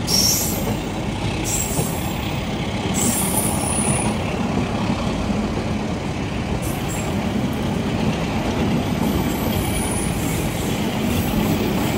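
The Turangga passenger train pulls out of Nagreg station with a loud, continuous rolling rumble and high metallic wheel squeal bursts on and off throughout, no voices.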